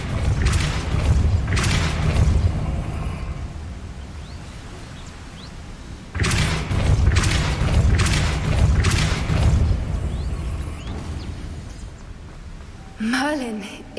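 A spell cast in the Hogwarts Legacy video game lands with repeated heavy booming thuds, loud and close, in two long bursts over rumbling game ambience, followed by a short rising magical whoosh near the end.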